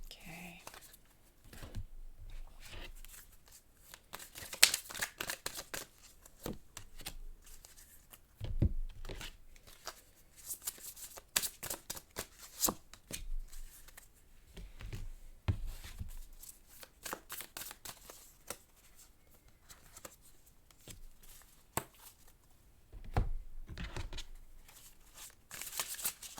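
Tarot cards being shuffled and pulled, with soft riffling and flicking bursts scattered across a long stretch, close and fairly quiet with pauses between.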